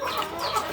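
Layer hens clucking on a poultry farm, a dense overlapping chorus of close, moderately loud birds with no speech over it.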